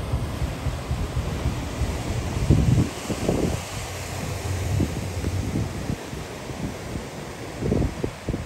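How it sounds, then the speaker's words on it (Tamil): Rough ocean waves at Tanah Lot temple in Bali surge and wash against the rocks in a steady, hissing roar, with gusty wind buffeting the microphone throughout. "அலைகள் வந்து ரொம்ப ஆக்ரோஷமாக இருக்குது"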